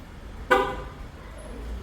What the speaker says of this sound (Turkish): korna ikazı ile beraber tekrar araçtan uzaklaştığımızda kapılarını otomatik olarak kilitleyecek